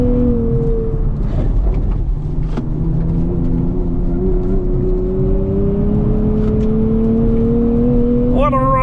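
A 2024 Nissan Z Nismo with 420 horsepower and a rear limited-slip differential, accelerating hard on twisty roads. A loud, steady engine drone rises gradually in pitch, heard from inside the car, and ends in a sharp rev near the close.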